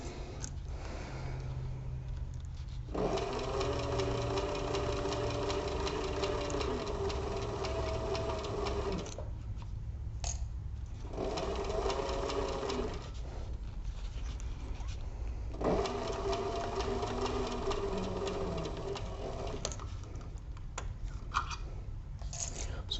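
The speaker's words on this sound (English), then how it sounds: "I do want to make sure that the walking foot just walks right up over that seam and keeps on a trucking" Sewing machine fitted with a walking foot stitches over a seam while a crossbody bag is sewn, running in steady buzzing bursts that stop and restart several times, close and fairly loud.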